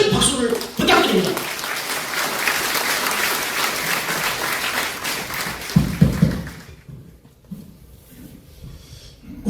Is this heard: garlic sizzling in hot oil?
no